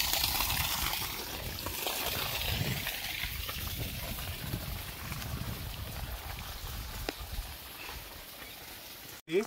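Water gushes from the column pipe of a solar-powered borewell pump outdoors, a steady broadband rush that holds at moderate level. A few faint knocks break in near the end.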